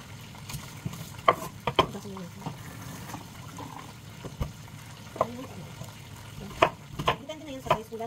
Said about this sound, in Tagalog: Habang piniprito natin, takes time na maluto ang ating isda.